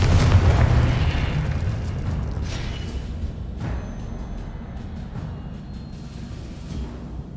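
A Confringo fire spell in Hogwarts Legacy bursts with a loud, deep blast that rolls into a long rumbling, fiery decay, with a few scattered crackles and pops as it fades.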